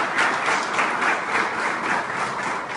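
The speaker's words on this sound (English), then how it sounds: "we should have a huge round of applause" An audience at a thank-you session gives a long, steady round of applause, dense clapping at full volume with no break.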